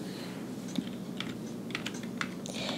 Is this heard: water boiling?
no